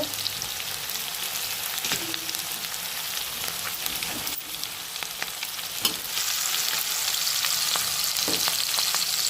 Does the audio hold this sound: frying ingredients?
yes